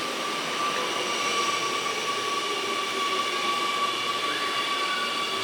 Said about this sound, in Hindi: लो, मेरी ट्रेन भी आ गई फिर से।